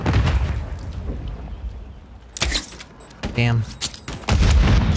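Grenade blasts go off in a first-person shooter match, sharp booming bursts with gunfire cracks, one big hit midway and another near the end, while a player talks over the action.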